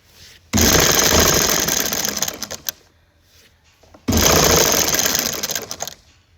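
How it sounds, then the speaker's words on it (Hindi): A sewing machine stitches the fitting seam of a kurta in two loud close bursts of rapid rattling whir, each lasting a couple of seconds, separated by a brief quiet pause. "अब मैंने फिटिंग वाली सिलाई लगा दी है"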